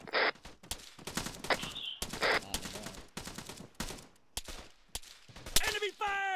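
Enemy gunfire in the video game Arma 3 cracks out in sharp, irregular bursts, some shots close and loud, others thinner, spread across the stretch with players talking between them.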